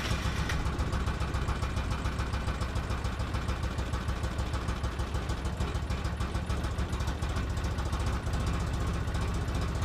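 A 2005 Polaris Ranger XP 700 utility vehicle engine running roughly after a fuel system rebuild, a loud continuous uneven idle with a pulsing, knocking chug close by.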